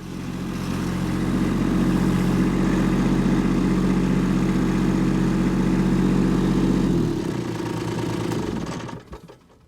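A Kubota B2601 compact tractor's diesel engine runs with a loud, steady low rumble, close by in a garden, then winds down and shuts off near the end, leaving quiet.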